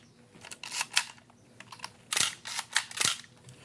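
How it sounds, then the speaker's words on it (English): A 35mm SLR camera fires its shutter at 1/60 second, the mirror slapping back into place; several sharp, close mechanical clacks come in quick pairs, loud and alone with no talking. "when the shutter closes, the mirror slaps back into place"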